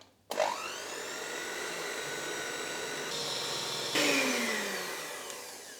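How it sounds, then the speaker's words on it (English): An electric hand whisk whirs steadily while beating tiramisu cream with vanilla, a loud continuous motor drone that starts abruptly, shifts pitch slightly midway and carries on throughout without talk. "This is the only time when you can use an electric whisker here, and I will be mixing it together."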